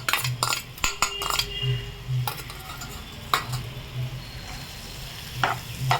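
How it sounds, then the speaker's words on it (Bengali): Cashews frying in a pan being stirred with a utensil, soft sizzling under repeated scrapes and metallic clinks against the pan, close and steady with no talking. "এটা দিয়ে এবার একটু নাড়াচাড়া করে নেবো।"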